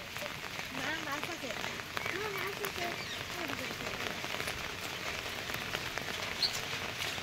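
Rain falls steadily on a flooded street in Morigaon, Assam, a constant close patter and wash that runs for the whole stretch, with faint voices talking underneath it.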